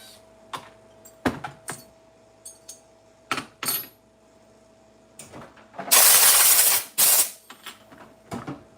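Clipper blades are taken apart, the comb separated from the cutter for sharpening. Sharp metallic clicks and ticks come at intervals, with one louder scraping, rattling burst midway, close up and without speech.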